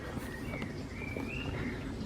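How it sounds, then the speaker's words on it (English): Birdsong outdoors near a main road bridge on a disused railway trackbed, with thin high chirps and a wavering whistle-like call over steady broadband background noise. "The birds are singing"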